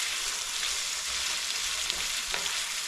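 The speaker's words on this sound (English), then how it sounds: "But you can already smell that garlic cooking" Garlic frying in a pan for a German dish, a steady close sizzle with light stirring clicks running the whole time and no voices.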